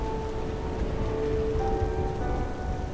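Heavy rain lashes steadily against windows on a stormy night, a dense continuous roar of drops with a low rumbling undertone, loud and unbroken throughout.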